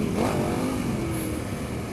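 A KTM 1090 Adventure R motorcycle engine drones steadily while riding, a continuous close rumble with a slight rise in pitch, heard alone with no talking.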